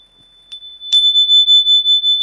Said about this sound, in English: With the ringing of this bell, we call the spirits twixt heaven and hell.